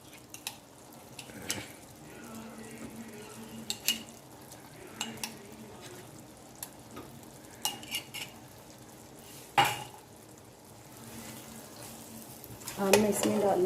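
Cream stirred into Patiala chicken in a pan, soft frying sizzle with intermittent clinks and scrapes of a spoon against the pot, close and moderate, ending in a louder bubbling sizzle.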